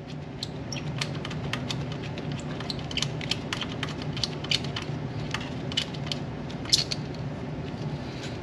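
A wrench works a loose 10mm bolt off the ignition coil of a second-generation Toyota Tacoma, giving a quick run of small, close metallic clicks and ratchet ticks over a quiet background.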